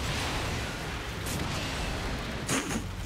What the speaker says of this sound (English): Did you shoot in front of us?